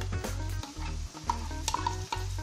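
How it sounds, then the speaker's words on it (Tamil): An onion, black pepper and cumin paste sautés in hot oil for a Chettinad-style crab gravy, heard as a close sizzle with repeated rhythmic stirring and scraping from a spoon. A steady low hum runs underneath. "அந்த பேஸ்ட்டு போட்டு திரும்பி ஒரு வதக்க ஆரம்பிச்சிருக்கோம்"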